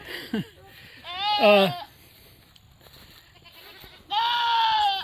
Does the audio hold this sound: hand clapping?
no